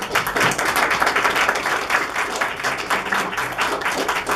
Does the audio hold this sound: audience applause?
yes